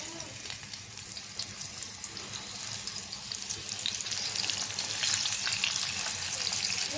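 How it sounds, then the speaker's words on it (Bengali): Shing fish rubbed with chili powder, turmeric and salt fries in hot oil, a soft, steady hiss of fine crackles that grows slightly louder and busier partway through. "তেল গরম হয়ে গেছে, মাছ দিয়ে দিলাম।"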